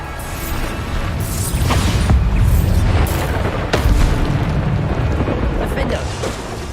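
Repeated Bombarda spell explosions in the video game Hogwarts Legacy: a steady run of deep, rumbling booms with sharper cracking bursts, loud and close, blending into one continuous roar.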